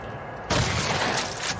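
A sudden loud shotgun blast in The Last of Us Part II cuts in from quiet and leaves a dense, noisy roar that fades only slightly.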